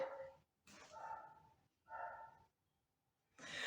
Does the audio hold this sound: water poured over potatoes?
no